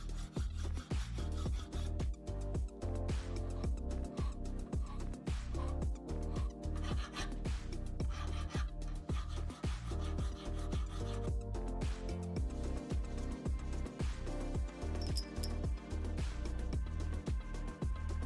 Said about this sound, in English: I used some hand files on the outside of the nuts and bolt head to get rid of the visible layer lines